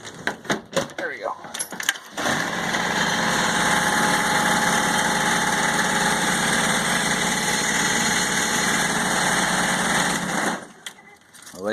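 A Kubota GR2100 garden tractor engine cranks over after a cold start in mid-February, then settles into a steady, close, vibrating idle for several seconds before cutting off, with a few brief clatters at the start.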